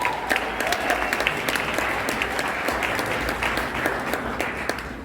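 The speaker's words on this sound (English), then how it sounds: "Can we clap hands for Impumelelo for 10 years?" An audience at an anniversary celebration claps hands together, a steady crowd of overlapping claps with some louder individual hits, close and continuous throughout.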